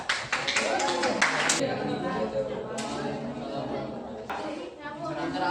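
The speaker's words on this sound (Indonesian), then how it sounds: "beri aplaus dulu untuk kelompok 3" Students in a classroom give group 3 a short round of clapping, quick crisp claps under chatter and a voice that keeps talking.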